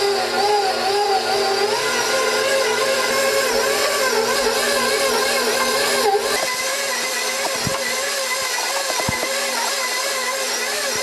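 An electric mixer kneading focaccia dough runs as a steady, loud whirring drone for about six seconds, then stops, leaving a few faint knocks.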